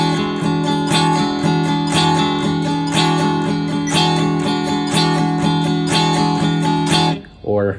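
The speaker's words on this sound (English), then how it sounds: "we're going to have 4 strums between each of these hits of the metronome" A funk guitar strums steady 16th notes, four per beat, with a metronome clicking at 60 bpm, loud and close, and the pattern stops near the end.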